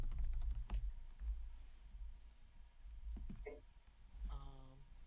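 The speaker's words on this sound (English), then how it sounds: "I am very quickly typing up all the items that you guys may or may not have" Fast typing on a computer keyboard during a gaming group chat, quick clicking bursts mixed with low background rumble and other sounds rather than steady continuous keystrokes.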